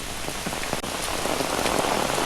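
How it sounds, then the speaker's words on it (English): Heavy rain pours steadily onto a hiking trail on the Appalachian Trail with a dense, constant hiss. A brief knock or tap sounds close by partway through, and no one speaks. "it's raining hard right now"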